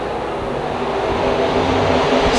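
IMC stock cars in a heat race at Minot, a steady, loud roar of several engines running together, close and continuous, building slightly in intensity.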